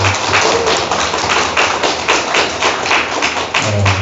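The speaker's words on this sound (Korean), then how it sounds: "다시 한번 하나님께 영광의 박수 드리겠습니다." A church congregation at a New Year blessing revival service claps together in a loud, steady rhythmic beat that carries through the whole stretch, with a low sustained tone rising underneath near the end.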